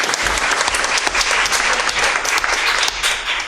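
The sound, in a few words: audience clapping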